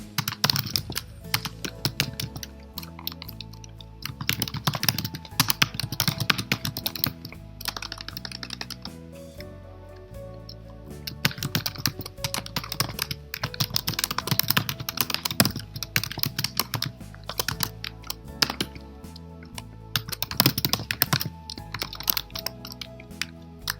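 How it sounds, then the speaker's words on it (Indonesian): Typing on a computer keyboard while entering commands on an Ubuntu server: dense, irregular streams of close key clicks in bursts, with brief pauses and occasional louder keystrokes. "Kita ketik ulang."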